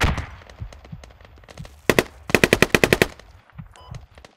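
Automatic gunfire in the forest warfare shooter Squad: a few isolated shots, then a loud rapid burst of about a dozen close rounds, followed by scattered quieter shots, with no talking.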